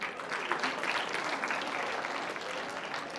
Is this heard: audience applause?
yes